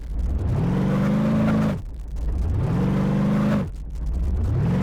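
A car engine in BeamNG.drive pushing into water: loud, close revving that rises in pitch, cuts off sharply, then surges again three times in a steady repeating cycle, with no talk over it.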